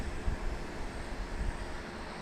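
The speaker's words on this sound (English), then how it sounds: "Here's one of the two MD-11s we've got in the house" A McDonnell Douglas MD-11 airliner at DFW Airport at night, heard as a steady, distant broadband jet roar with low rumble and a faint wind-like wash, no voices present.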